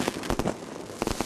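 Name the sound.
fireworks exploding over Beijing at Lunar New Year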